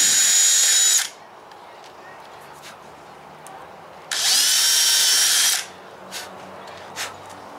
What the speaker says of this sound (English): we're going to pre-drill our hole, and then we'll run our screws in